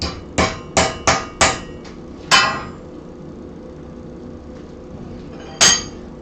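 A hammer driving a metal bar down while it is clamped in a vise: five rapid ringing blows, then one more after a pause and a final strike a few seconds later, loud and close.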